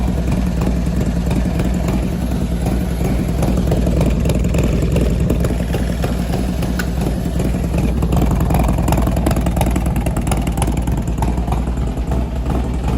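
A Harley-Davidson Dyna motorcycle engine running after repair, a loud close steady idle with a continuous throbbing rumble throughout.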